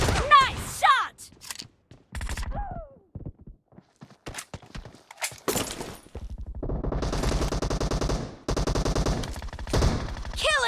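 Rapid shotgun blasts and bursts of gunfire from a video game team deathmatch, loud punchy shots in clusters with gaps between them and an announcer-style voice heard briefly.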